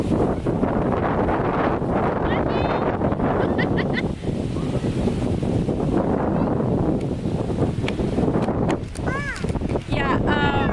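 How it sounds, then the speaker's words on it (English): Strong wind before a storm roars across the microphone in constant gusty rushes, with people talking over it throughout. "It's super windy now."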